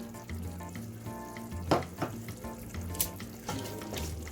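Chicken karahi frying in a pan as kasuri methi is stirred in, a steady sizzle broken by a few louder scraping stirs of the spoon.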